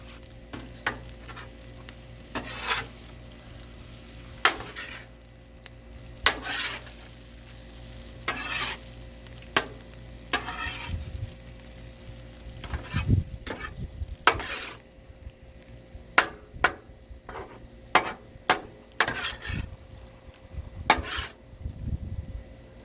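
Jambalaya stirred on a Blackstone griddle, a low steady sizzle under repeated sharp scrapes and taps of a metal spatula against the flat top, irregular and close, with no speech.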